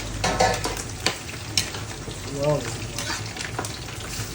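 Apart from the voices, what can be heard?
sautéing fresh patola in pan with sardines and miswa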